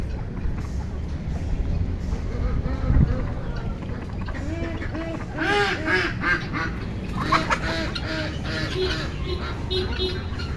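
Pekin ducks quack repeatedly in a lively, overlapping flock on a poultry farm, with a person talking over the steady background noise.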